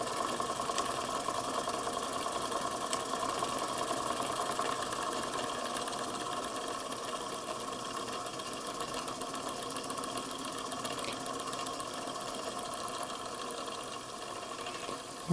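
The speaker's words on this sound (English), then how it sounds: "I think that's about as slow as we're going to get it to go. Nice smooth running engine." A Weeden Model 647 toy steam engine runs slowly and smoothly, giving a steady, fast, light mechanical chatter with a faint whirring hiss, continuous and close with no talking.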